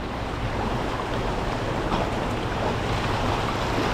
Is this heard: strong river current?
yes